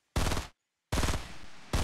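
Bursts of automatic gunfire aimed at an enemy in Fortnite, loud and close: a short volley, a pause of silence, then a longer burst fading off and a final sharp burst, with no voices over it.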